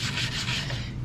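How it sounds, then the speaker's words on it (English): A tyre brush scrubs the tyre of an Audi TT MK1 in a steady, close, rough rubbing rasp. It lasts about a second with no talk. "I've got another tyre brush that I'm just going to use just to give it a"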